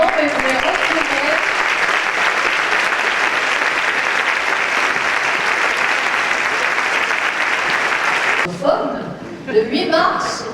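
Audience applause at an award ceremony honouring Filipino scientist Lourdes Cruz: dense, sustained clapping fills the room, then stops abruptly, leaving faint voices and a few scattered claps.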